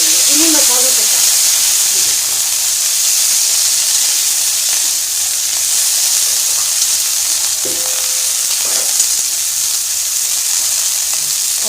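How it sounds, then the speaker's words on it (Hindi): Cauliflower pieces fry lightly with spices and bay leaf in a pan, giving a steady, close sizzle and hiss with occasional stirring scrapes throughout. "अब गोभी को हम हल्का फ्राई कर लेंगे इन्हीं मसालों के साथ।"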